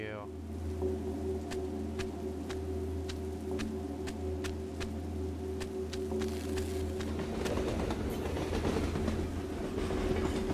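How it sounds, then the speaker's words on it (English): A train passes in a video game, with a steady low rumble and an evenly spaced clickety-clack that builds toward the end. "Oh, it's a train."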